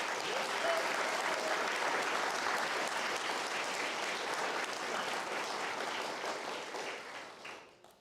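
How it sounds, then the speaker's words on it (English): A crowd at a fire academy graduation ceremony gives a sustained round of applause, with dense clapping that holds steady and then fades out near the end. "One more round of applause for him."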